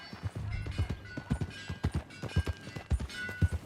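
Horse hooves clip-clop at a steady trotting rhythm while riding in Red Dead Redemption 2, moderately close, with faint ambient game sound behind them.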